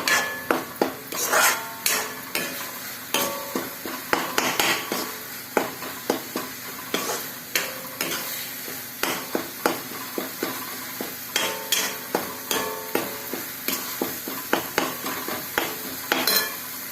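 Spices sizzle in a pan over medium heat for coriander leaves rice while a utensil stirs and scrapes in regular, clinking strokes, close and fairly loud, repeating steadily throughout.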